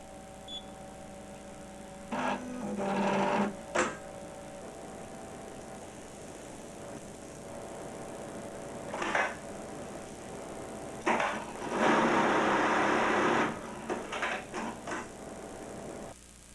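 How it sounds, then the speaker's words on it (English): A Juki AMS-210B industrial programmable sewing machine runs a test stitch, with a short beep and then several bursts of fast mechanical stitching and carriage whirring separated by pauses, close and moderately loud. "Now, let's verify the sewing data with a test sewing."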